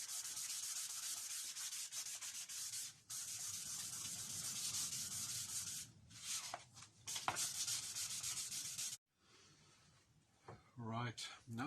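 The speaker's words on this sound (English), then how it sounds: "I'm just rubbing this down with a 2000 grit bit of wet and dry" Recurve bow limbs being rubbed down with fine 2000 grit wet and dry paper, a steady close sanding hiss in long strokes with brief pauses, ending with quieter handling and a short voice.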